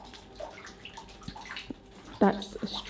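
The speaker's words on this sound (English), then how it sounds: "that's a stream of water that is coming towards me" Water runs in a thin stream across the floor of an old brewery cellar, trickling and splashing faintly in small bursts, with a brief voice heard nearby.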